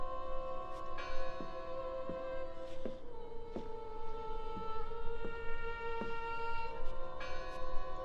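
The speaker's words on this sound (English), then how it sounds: "I heard the bell." Deep, resonant bell strikes ring out in a video game, repeating at a slow steady pace over a sustained humming drone, loud and with no speech.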